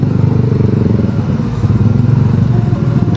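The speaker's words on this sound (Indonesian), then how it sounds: "Banyak wisatawan asing menggunakan motor." Many motorcycles idle and creep through a traffic jam in Canggu, Bali, making a loud, continuous, close engine putter and rumble with light clatter.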